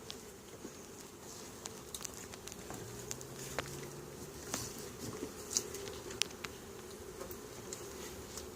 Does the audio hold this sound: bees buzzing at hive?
yes